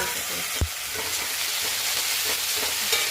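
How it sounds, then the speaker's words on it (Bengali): Whole cumin, garlic cloves, chopped onion and ginger-garlic sizzle steadily in a pan for duck curry, with one sharp knock of a stirring spoon early on and soft scraping over the continuous hiss. "মশলাগুলো দিয়ে কষিয়ে নিলাম।"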